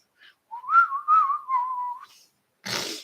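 A person whistling a short wavering tune, a clear, fairly close, sustained melody of about two seconds, followed by a breathy burst of noise.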